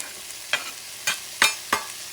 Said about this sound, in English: Mix things up. You don't want the garlic to burn.